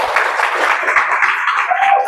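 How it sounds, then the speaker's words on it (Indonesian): Students in a classroom applaud together, a dense, steady patter of many hands clapping at close range for about two seconds. "Wah, tepuk tangan untuk"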